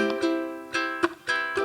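Several quick strummed ukulele chords, bright and close, in a short rhythmic pattern with brief pauses between strums.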